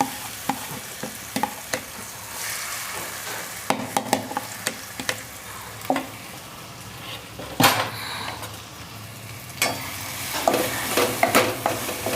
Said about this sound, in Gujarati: તો હવે એને આપણે થોડાક શેકી લઈશું